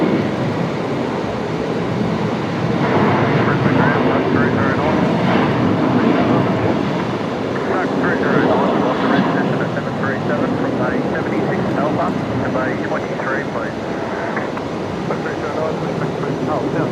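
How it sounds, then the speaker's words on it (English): Airliner beginning its takeoff roll at Brisbane Airport at night, a steady distant roar of jet engines heard throughout while a person talks over it. "they're actually just beginning the takeoff roll now"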